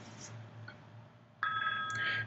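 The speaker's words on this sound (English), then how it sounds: "And now my phone's ringing." A phone rings from an incoming click-to-call, a steady electronic ring tone that starts abruptly partway through after near silence, moderately loud and heard alone without speech.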